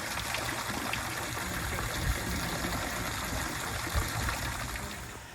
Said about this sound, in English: Listen to that water. Isn't that nice?